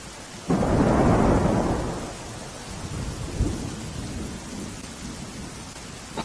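A loud thunderclap booms and rumbles away over steady heavy rain pattering on surfaces in Palanpur, Banaskantha, with a smaller rumble later.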